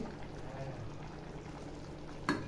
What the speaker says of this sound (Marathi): हे बघा छान अशी उकळी आलेली आहे